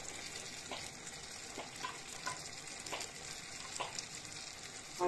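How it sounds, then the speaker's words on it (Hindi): Chopped carrots fry in a pan, giving a faint, continuous sizzle with a few soft stirring scrapes running through it. "गाजरों को भी थोड़ा सा फ्राई कर लेंगे"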